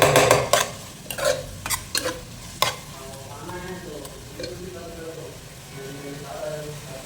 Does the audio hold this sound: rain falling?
no